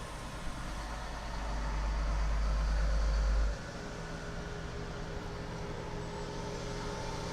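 A truck loaded with about eighty trees rumbles past nearby, its low engine drone swelling for a couple of seconds and then settling back into faint street background.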